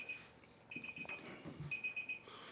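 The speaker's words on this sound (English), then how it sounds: "That's a timer." Electronic timer alarm beeping in repeated bursts during a city planning and zoning commission meeting, the tone fairly clear over a murmuring room and low background noise.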